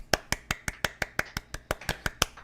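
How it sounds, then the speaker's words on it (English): About a dozen sharp, evenly spaced hand claps in a slow, steady rhythm, close and crisp with no talking, a soft polite golf clap. "Golf clap."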